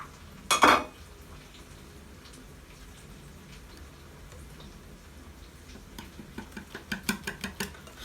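Ingredients for a quick vegetable tart are mixed in a bowl, with a sharp utensil knock near the start, then quiet scraping and a building run of light rhythmic clinks and taps.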